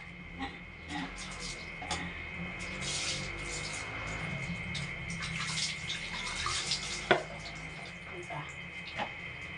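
Steady warm running water splashing continuously during a Yorkshire Terrier's bath, with a few brief clatters and murmured voices in the background.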